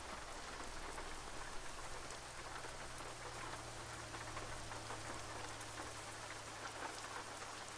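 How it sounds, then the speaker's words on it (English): Steady rain falls in the Euro Truck Simulator 2 driving game, a dense, continuous hiss of drops with no breaks or voices. "it's starting to rain here now"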